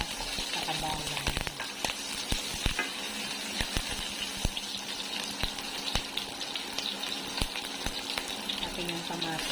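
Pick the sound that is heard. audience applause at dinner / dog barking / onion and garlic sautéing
onion and garlic sautéing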